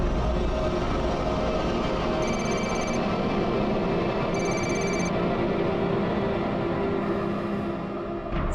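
A telephone rings in two short electronic bursts over a loud, steady rumble of a moving train.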